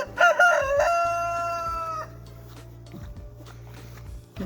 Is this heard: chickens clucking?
yes